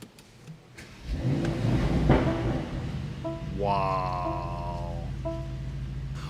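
A 2022 Mercedes SL55 AMG V8 starts up nearby with a quick whirring crank, then catches and settles into a loud, steady idle rumble with a rising tone, heard on its own.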